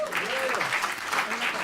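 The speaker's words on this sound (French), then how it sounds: "on peut les applaudir" Congregation applause during a Baptist church service, a short burst of dense clapping with a voice talking over it.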